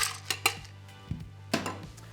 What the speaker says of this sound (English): Fill it up with ice cubes.